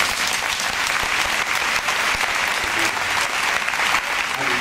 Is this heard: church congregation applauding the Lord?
yes